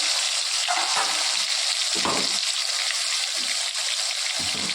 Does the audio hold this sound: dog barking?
no